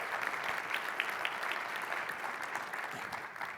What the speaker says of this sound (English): So a big round of applause for Sheila Casey Brown,